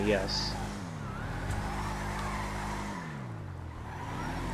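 A video game car drives with a steady engine drone that rises and falls in pitch as it shifts and revs, heard up close, with a brief spoken word near the start.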